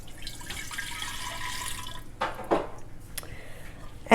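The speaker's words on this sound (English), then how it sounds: "So go ahead and put your lime juice in." Lime juice pours into two quarts of water, a soft trickling splash with a few drips and small bursts, brief and fairly quiet.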